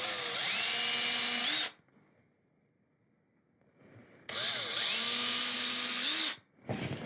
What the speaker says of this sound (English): I'm going to pre-drill with a 3/32 drill bit and then attach those screws.